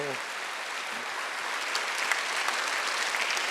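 Church congregation clapping during a Korean Wednesday worship service, a broad continuous wash of many hands that swells slightly in the second half, with a brief voice at the start.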